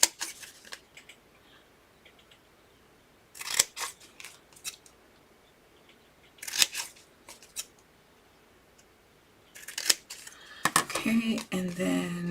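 Scissors snip into the corners of thick cardstock for a papercraft explosion box, giving several sharp crunching cuts in short bursts separated by quiet pauses, close and crisp with no talk.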